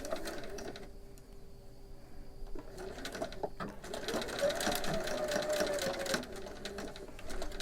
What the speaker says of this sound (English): I'm going to zigzag over this edge.